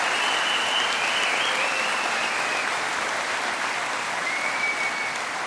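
Sustained, dense applause comes from graduates filling the hall at a Portsmouth University engineering graduation ceremony, holding an even level from start to finish.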